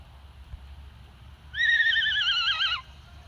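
A horse neighs once, a clear whinny lasting about a second, heard fairly close against quiet outdoor background near a fishing spot.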